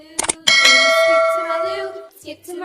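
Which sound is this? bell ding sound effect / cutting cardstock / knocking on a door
bell ding sound effect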